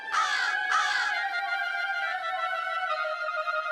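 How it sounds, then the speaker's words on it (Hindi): A crow caws twice in quick succession, loud and close, followed by a lingering tonal ringing sound. "ए कौवे"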